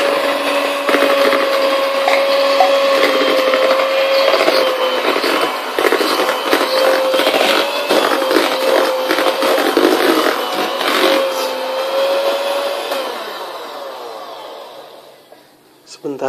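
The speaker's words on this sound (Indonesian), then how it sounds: "Sambil tetap dikocok ya, dengan kecepatan yang pelan" An electric hand mixer beating batter at low speed, a continuous close whirring hum with a steady tonal whine and rattling, holding for most of the stretch before fading out near the end.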